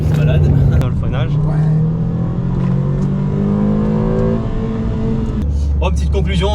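A Renault Twingo RS hot hatch driving, its engine droning loud and steady from inside the cabin with a pitch that climbs and settles through the gears, and voices talking over it.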